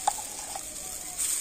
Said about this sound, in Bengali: সিদ্ধ করে বেটে নিয়ে ছোলার ডালটা আমি সম্পূর্ণটা কড়াতে দিয়ে দেব